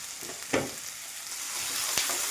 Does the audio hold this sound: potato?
yes